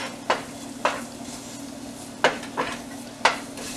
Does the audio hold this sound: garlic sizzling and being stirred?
yes